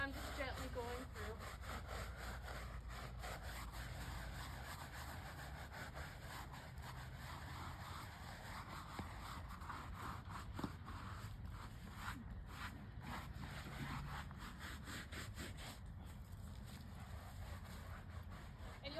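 Steady scratchy scrubbing of a gravestone in a cemetery, with a fine Rice Krispies-like crackling texture, runs continuously, close by, with soft rhythmic strokes throughout.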